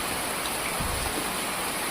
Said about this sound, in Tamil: இன்று பழுவேற்காடு பகுதியில் மிக கனத்த மழை பெய்து வருகின்றது